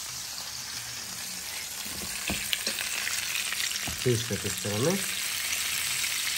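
Hot oil sizzles and crackles steadily as beef searing for Beef Wellington browns in a pan, with a short spoken remark and some clinking of utensils partway through.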